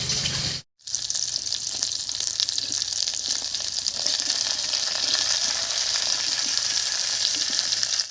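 Cauliflower and potato sizzle and crackle steadily in a hot pan after a brief cut of silence, a continuous bright frying hiss with faint stirring.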